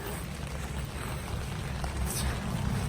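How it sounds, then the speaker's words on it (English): Steady, dense rainfall hissing and pattering on surfaces all around, a constant wash of sound with no voices. "It's raining pretty good."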